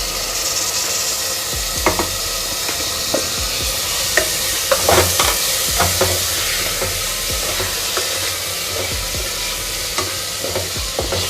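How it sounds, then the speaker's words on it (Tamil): Chopped tomatoes sautéing with onions in a pan for dum-style minced-meat keema biryani, a loud continuous sizzle and hiss with repeated scraping and stirring clatter throughout, no speech. "இப்போது இதில் கட் பண்ணி வச்சுருக்க தக்காளி சேர்த்துடலாம்."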